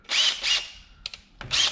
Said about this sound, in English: battery powered drill, and you can have also this action like this